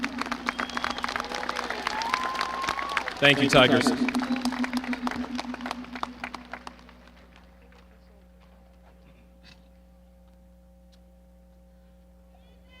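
Applause at the 2025 Neville High School graduation, crowd clapping under a speaker's voice that swells briefly, then fades away, leaving a quiet room hum.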